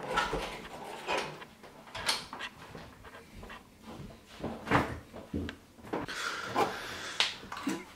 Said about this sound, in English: Let's go to the freezer, see what we've got.